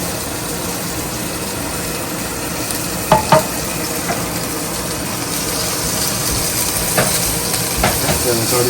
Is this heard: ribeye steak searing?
yes